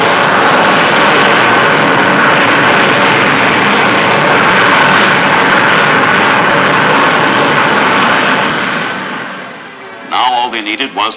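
An early jet engine runs with a loud, steady broadband roar that holds for about nine seconds, then drops away as a voice begins speaking near the end.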